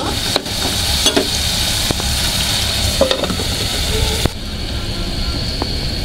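Shrimp frying in oil in a pan for shrimp bhuna, a steady close sizzle with a few clinks and stirring scrapes, the level dropping slightly partway through.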